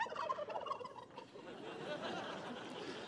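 Turkeys at a presidential Thanksgiving pardon ceremony gobble in a burst of rapid, warbling calls, followed by a noisy crowd murmur and outdoor background wash.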